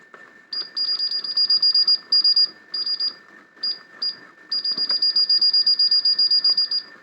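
A National NV-770 VCR emits high, shrill beeps in rapid trains, with short runs broken by gaps and then a long continuous stretch, loud and close.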